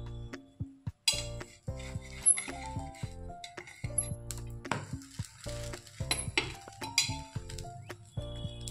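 A lid comes off a pan and butter garlic cheese bread is flipped inside it. Sharp metallic clinks, clatters and scrapes sound close and intermittent over a soft sizzle.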